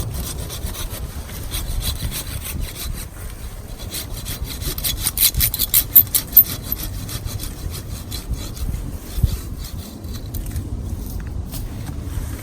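Thick branches being sawn off the trunk of a semi-trained tree during rough pruning, a steady back-and-forth rasp of saw teeth through wood, close and continuous with no talk.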